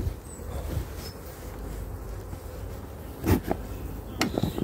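A honeybee colony hums inside an open hive, a steady close buzz broken by a few sharp knocks and clatters of equipment near the end.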